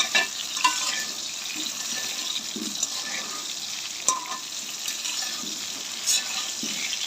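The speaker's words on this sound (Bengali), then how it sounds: "আলুগুলো আমি ভালো ভেজে নিতে আসি, লাল লাল করে আলুগুলো ভেজে নিই।" Potatoes frying in oil in a pan while being browned for biryani, a soft continuous sizzle with occasional scraping and clinking of a utensil, no talking.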